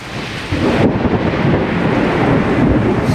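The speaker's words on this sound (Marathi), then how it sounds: "विजा पण खूप मोठ्या मोठ्याने कडकडत आहेत आवाज येतोय खूप मोठ्या मोठ्याने" Loud thunder cracks and rumbles during the first monsoon rain over a village in Ratnagiri, a sudden heavy roar breaking in after a quieter start, with rain and wind noise washing over the microphone.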